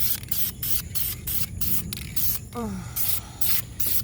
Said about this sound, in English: I'm just spraying the initial light coat